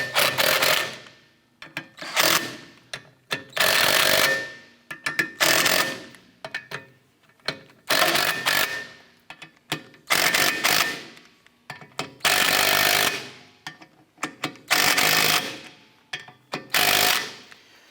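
Bolts being driven in bursts with an impact or power tool through an Acura TL rear rotor to press it off the hub, about a dozen loud, buzzing, rattling runs separated by short silences.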